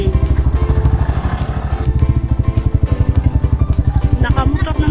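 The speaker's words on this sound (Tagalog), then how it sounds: "Nakamotor naman tayo eh." A motorcycle rides along a street near a church, its engine putting out a steady close throbbing drone that keeps a fast regular pulse throughout, with no distinct talk over it.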